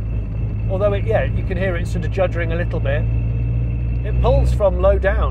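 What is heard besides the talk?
tuned 600bhp Toyota GR Yaris juddering while driving through village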